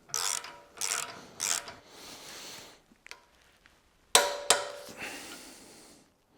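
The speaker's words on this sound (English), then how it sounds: "This is a ball joint, so we can torque it to spec." A torque wrench tightens the ball joint bolt on a BMW 850i V12, with three quick ratcheting bursts, a pause, and then two louder ratchet clicks, all close and crisp.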